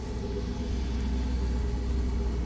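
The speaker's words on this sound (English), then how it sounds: "It's making like a supercharger sound." A Camaro Z28 engine idles on a cold start, a steady close rumble with a faint supercharger-like whine running through it for the whole stretch.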